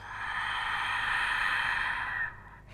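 A long, close exhale pushed out during a core stability exercise, one steady breathy rush lasting about two seconds before fading out.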